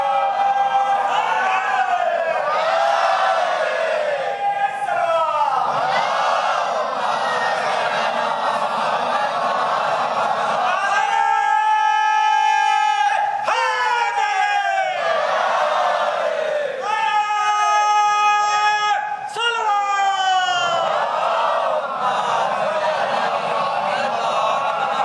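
A large majlis crowd at Imambada Jannatmaab in Lucknow chants a slogan in loud, sustained unison bursts, repeated several times with brief gaps between waves of voices.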